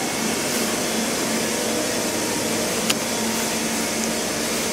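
Extrusion moulding machine coasting in a workshop, a steady broadband mechanical whir and hum running evenly throughout with one brief click near the end, no one talking.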